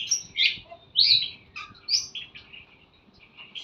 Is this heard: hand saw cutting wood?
no